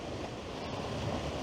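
Ocean waves crashing on a Scottish shore, a continuous broad wash of surf mixed with wind rumble on the microphone, steady and fairly loud throughout.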